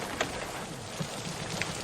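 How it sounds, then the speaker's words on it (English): Rain falling steadily in a live-action film scene, a continuous wash of spatter with a few brief drips and taps, heard alone without voices. "Oh, boys, don't stand in the rain."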